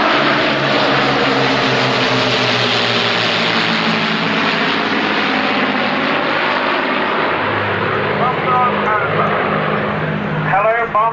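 A four-engined Avro Lancaster bomber drones past with a steady, loud propeller roar that fills the whole stretch and barely varies in level throughout.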